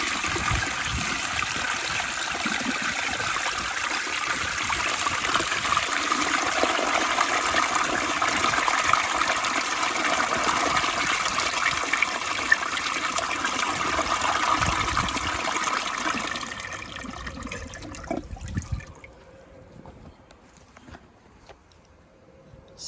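A 1997 American Standard Space Saver Cadet toilet flushes with a loud, close rush of water that roars steadily for about seventeen seconds, then tapers off into a quieter trickle and refill.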